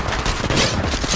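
Rapid automatic gunfire from a weapon in the mobile game Apex Legends, a dense burst of shots filling the whole moment, loud and close.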